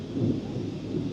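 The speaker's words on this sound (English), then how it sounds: "We just had a tropical raining, and you can hear the thunder." Distant thunder during a tropical rainstorm, heard from a hotel suite overlooking hills in Ipoh: a faint, low, continuous rumble lasting about a second with no talk.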